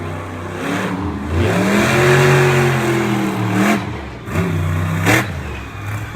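A monster truck engine revving hard on a dirt track at Lebanon Valley Speedway, rising and falling in long loud roaring swells with a brief dip between bursts, close and dominant; one short word is spoken.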